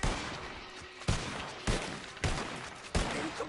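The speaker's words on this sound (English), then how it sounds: "Warning shots, warning shots. You are wasting so much goddamn ammo." Five sharp video-game gunshots ring out as warning shots, spaced roughly half a second to a second apart, each a loud close crack with a short decaying tail.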